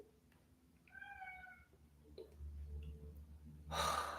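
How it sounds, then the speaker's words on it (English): A cat meows twice in short, clear, harmonic cries near the microphone, followed by a brief burst of breathy noise at the end, over a low indoor hum. "the cat just doesn't shut the fuck up"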